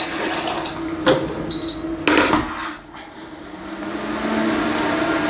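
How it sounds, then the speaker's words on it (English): Water is poured into a kitchen pot for dyeing sock yarn, with a few short splashing bursts followed by a softer, steady trickle, close by and without talking. "I'm going to have to add a little bit more water"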